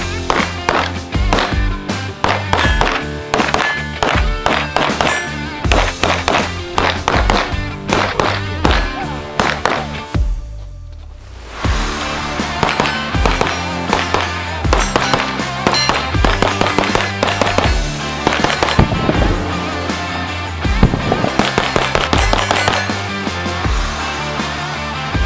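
Rapid, loud gunshots from an Echelon Comp pistol at a shooting range crack in dense strings, pausing briefly near the middle before the volley resumes; no talk over the shots.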